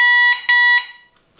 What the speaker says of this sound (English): This is the horn.